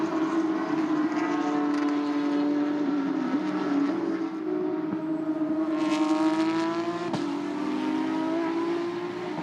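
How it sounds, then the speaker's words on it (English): Porsche Carrera Cup race cars lap the Nürburgring GP circuit, their engines rising and falling in pitch as they sweep past at a distance, with a steady roar and no voices. "So the cars making their way round this Nürburgring GP circuit when they race here as a Carrera Cup"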